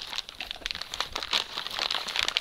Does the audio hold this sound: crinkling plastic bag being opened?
yes